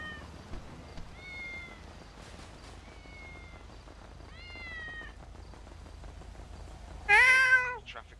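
Cats meowing in the GTA 5 video game: several short, clear meows spaced through a quiet background, ending in one loud, drawn-out yowl near the end.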